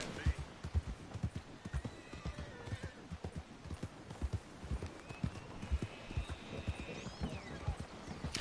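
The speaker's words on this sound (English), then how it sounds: "Wow, fine horse there." Horse hooves clip-clop steadily in the Red Dead Online video game, a rhythmic trot with an occasional whinny, heard over a background of game ambience and voices.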